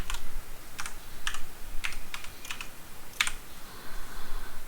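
HTML code being typed on a computer keyboard, a few sharp key clicks in uneven bursts, close and clear against a quiet room.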